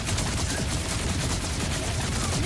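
SMG in the video game Borderlands 4 firing in a sustained rapid burst, a dense rattling stream of shots with a constant low rumble beneath, fairly close.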